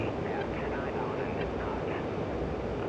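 An F-15C jet engine roaring steadily as the throttle is pushed forward in the DCS flight simulator, a constant broad whooshing drone, with a voice talking over it.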